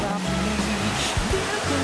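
Waterfall on a cycling trip in Thailand, a constant dense rush of falling water filling the scene at close range, with low bumps and a voice briefly audible under the roar.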